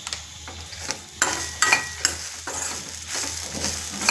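Turmeric and spices for a Mangalore-style cucumber sambar fry in a pan, with a soft sizzle broken by repeated scraping stirs of a spoon against the metal.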